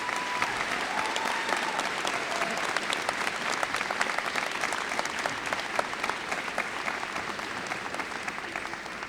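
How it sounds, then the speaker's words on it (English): Graduates at a university convocation ceremony join in a long, even round of applause for their families, many hands clapping steadily from a large hall crowd for around nine seconds. "May I ask the graduates of the class of 2010 to join in a round of applause for your families"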